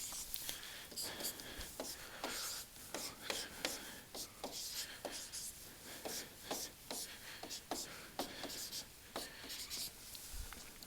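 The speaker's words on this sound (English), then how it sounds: "I'm going to erase this and quickly put my number line back up here." Marker or chalk strokes on a classroom board during erasing and rewriting of a number line: a quick series of short scratchy rubs and taps, close and fairly quiet, with no talk.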